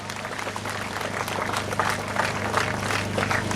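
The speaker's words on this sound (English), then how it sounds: "Please give her a big round of applause." A crowd at an open-water swimming meet briefing gives a steady round of applause for the chief referee, dense continuous clapping at moderate distance throughout.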